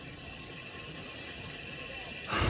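A drinking-water tap in a park gives a steady stream of running water. The flow grows louder and fuller near the end of the clip.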